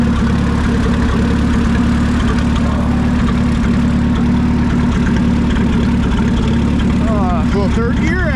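A 1950 Minneapolis-Moline UTS tractor engine runs steadily at a low, heavy throb while the tractor heads up a driveway, loud and constant throughout.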